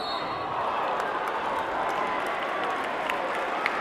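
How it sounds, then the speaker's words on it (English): A high school basketball crowd roars and cheers steadily in a gym, a dense wash of voices and clapping throughout with no pause. "We got the whole crowd raising the roof here."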